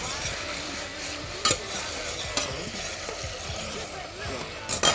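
Chicken pieces cooking in hot clarified butter sizzle and crackle steadily, with sharp metallic clanks from a pan or utensil, while a voice speaks over the frying.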